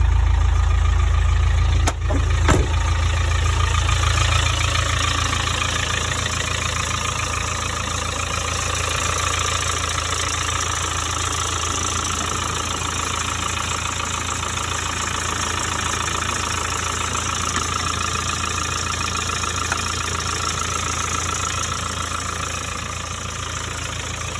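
A Land Rover Discovery 2 with a 300Tdi diesel engine starts with a brief crank, then settles into a steady, close idle that holds for about twenty seconds with no talking.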